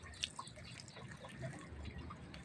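Water poured onto the soil of a newly planted pineapple plant, soft trickling and dripping with a few sharper splashes, faint and close.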